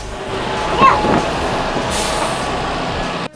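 A city bus in Moscow pulls up with a short hiss of its air brakes over a steady, loud engine rumble and street noise, heard close by.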